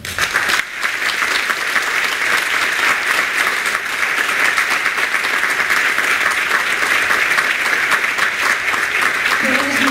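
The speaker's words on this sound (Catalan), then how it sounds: "Vull demanar un fort aplaudiment a la regidora de Festes, Eugenia García Jiménez." Dense, steady audience applause fills a festival presentation evening for the Noche Roja in Antella, welcoming the town's festivities councillor; loud, continuous and unbroken for the full ten seconds with no speech over it.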